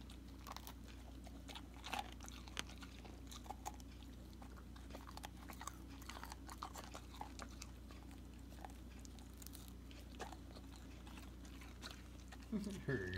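A poodle chews crunchy homemade dog food, giving a steady run of small bites and crunches close up over a low background hum, with a brief rustle at the end.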